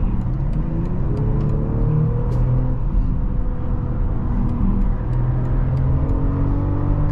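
A 2024 BMW X5 40i accelerating from inside the cabin, its engine droning loud and steady with the pitch climbing as it revs, joined by road and wind rumble, with no talking.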